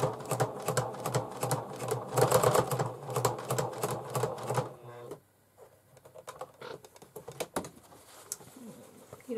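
A sewing machine fitted with a denim needle labours through several thick layers of bag fabric, its rapid mechanical stitching chatter loud and close for about five seconds before stopping, leaving quieter handling clicks and rustles.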